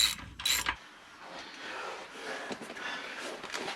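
A ratchet wrench tightens bolts on a Yamaha SR500 motorcycle being built as a desert sled. A loud clunk opens the clip, then steady rapid ratcheting clicks follow, close by with no talk.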